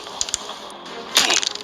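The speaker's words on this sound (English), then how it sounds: "Now this is a machete, and I'm gonna use it to cut Jeff." A machete cuts into a minifigure in the Melon Sandbox video game, giving a few sharp cracking and splintering hits: two quick strikes, a pause, then a louder cluster of snaps.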